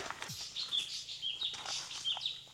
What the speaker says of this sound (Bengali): পাখির ডাক শুনতে পাচ্ছেন?